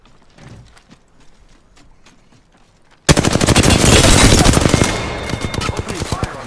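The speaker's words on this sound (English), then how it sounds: "Opening fire on the enemy." Automatic gunfire in the shooter game Apex Legends erupts suddenly after a quiet stretch of faint footsteps, a loud rapid burst of shots that continues, then breaks into shorter separate volleys.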